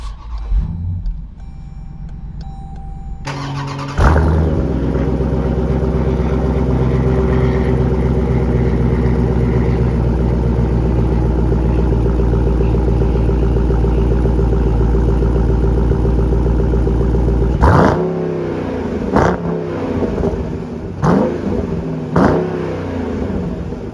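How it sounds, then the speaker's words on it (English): Dodge Durango SRT V8 firing up with a sharp starter burst and loud bark, then settling into a steady, deep, rumbling idle close by, ending with a few brief clicks and shifts in the last seconds. "Now I'll give you guys a quick startup of the Dodge Durango SRT"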